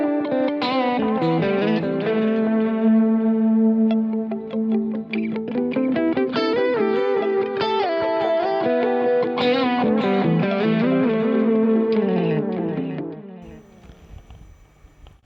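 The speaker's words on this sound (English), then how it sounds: "When you press the Control 1, it just gives you a nice overdrive over that sound" Electric guitar through a BOSS GX-10 multi-effects processor with the Control 1 overdrive engaged. The tone is thick and driven, with sustained chords and melodic lines over about fifteen seconds, plus a little chorus and reverb, before it fades out at the end.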